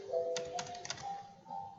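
A computer keyboard being typed on while entering subplot commands in MATLAB: a few soft, separate key clicks over a faint steady hum.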